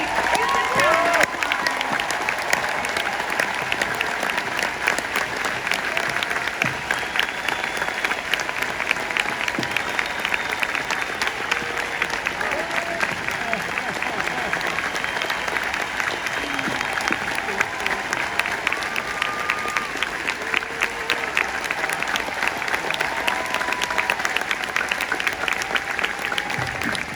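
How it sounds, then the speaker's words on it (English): Sustained audience applause at a Star Wars Celebration panel in Anaheim for actor Anthony Daniels, a large crowd clapping steadily for nearly half a minute with scattered cheers and voices mixed into the hall's roar. "I think Anthony Daniels deserves a huge round of applause"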